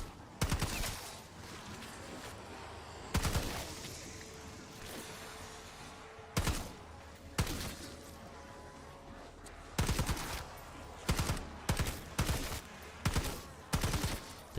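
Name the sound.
gunfire in Black Ops 6 zombies video game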